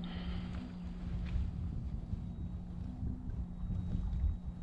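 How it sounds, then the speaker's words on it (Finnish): Wind buffeting a small boat out on the water, a steady low rushing and microphone wind noise with faint rocking knocks, no talking. "Hyvin heiluttaa venettä tuuli."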